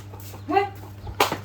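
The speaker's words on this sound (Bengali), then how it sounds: "বাড়ির থেকে মুরগি খেদাইলাম" Chickens cluck and squawk as they are chased out of a village house: two short, sharp calls about half a second apart, the second one louder, against a quiet background.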